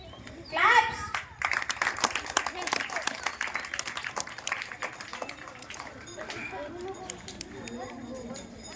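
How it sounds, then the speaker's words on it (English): A crowd claps at a school's annual prize-giving ceremony, a burst of brisk, scattered applause that fades over several seconds while children chatter and other voices carry in the background. "Claps."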